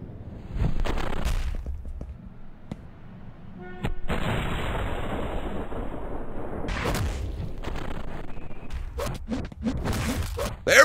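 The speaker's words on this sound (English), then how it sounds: "Explosions destroy incoming projectiles." Repeated booms and blasts from explosions in the indie action game Delay, with bursts of impact noise over a steady rumbling game soundscape, fairly loud throughout.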